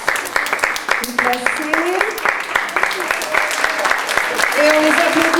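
An audience applauds schoolchildren after their end-of-year performance, dense clapping running throughout under a presenter's amplified voice.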